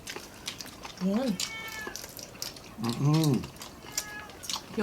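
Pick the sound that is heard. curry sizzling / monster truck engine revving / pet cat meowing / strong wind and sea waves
pet cat meowing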